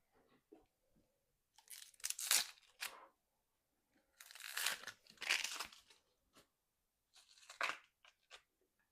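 A knife cuts through an onion for beef stew in a home kitchen, giving three clusters of crisp crunching and tearing sounds separated by quiet pauses, faint and close.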